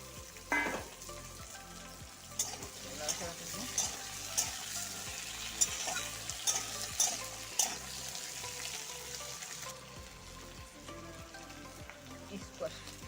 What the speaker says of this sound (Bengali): স্কোয়াশ আলু ভাজা হয়ে গেছে